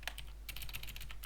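Quiet keystrokes on a computer keyboard while typing a username at an SSH login prompt: a short burst of clicks, a brief pause, then a faster run of taps, soft and near over a low steady hum.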